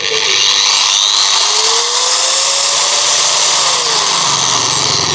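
A cheap Chinese Hukan six-speed electric grinder spins back up after a restart, a loud, steady high-pitched whine with sweeping tonal changes that fills the whole stretch without talk.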